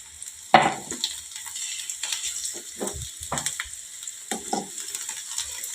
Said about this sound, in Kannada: ಈಗ ಇದಿಷ್ಟು ಚಲೋ ತಮಗೆ ಎಣ್ಣೆ ಒಳಗೆ ಫ್ರೈ ಆಗ್ಬೇಕು